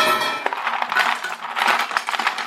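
Ice cubes dropped into an electric ice crusher, a string of sharp hard clinks and clattering knocks of varying loudness, close and alone.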